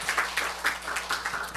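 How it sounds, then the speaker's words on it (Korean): Church congregation applauding during a Sunday service, a short burst of dense, fairly close clapping from many hands, uneven and lively throughout. "우리 하나님께 박수 올려드려요."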